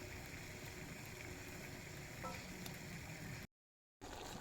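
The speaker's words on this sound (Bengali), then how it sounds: "আলুটা ভাজা ভাজা হতে থাক বন্ধুরা" Potatoes frying in a pan for a white potato curry, a steady close sizzling hiss that runs on evenly, breaks off briefly near the end, then resumes.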